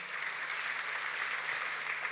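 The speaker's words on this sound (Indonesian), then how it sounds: "Kasih tepuk tangan." An audience at an Indonesian talk event applauds a guest, a steady, fairly soft wash of clapping that continues evenly for about two seconds with no voices over it.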